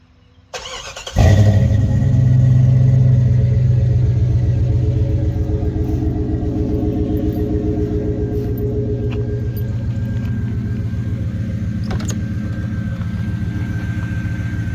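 A 1996-1998 Jeep Grand Cherokee ZJ, not started for about three weeks, cranks briefly and catches, then settles into a loud, steady idle rumble that continues close by with no talk.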